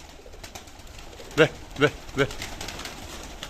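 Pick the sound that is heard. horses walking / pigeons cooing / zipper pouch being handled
pigeons cooing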